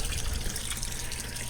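Cooling water used for condensing on an HVAC system pours in a steady, full stream, a continuous close splashing rush with no pauses.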